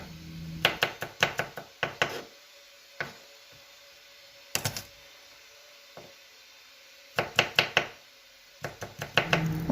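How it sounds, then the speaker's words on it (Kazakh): A knife crushing and chopping two garlic cloves on a cutting board for a Korean-style carrot salad, sounding as sharp close knocks in quick bursts separated by short pauses. "Келесі кезекте 2 дана сарымсағымызды алып, пышақтың көмегімен осылай басамыз."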